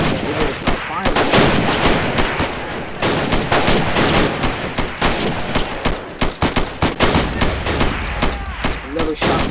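Heavy gunfire and artillery from a game battle for Pork Chop Hill, with rapid bursts of loud shots and booming blasts that keep going almost nonstop, close and dense throughout.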